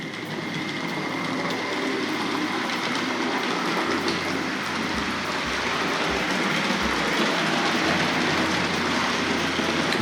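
A Tri-ang Hornby Coronation Class model locomotive running on a model railway track, giving a steady close whirring rumble with a faint rhythmic clatter of wheels over rail joints throughout.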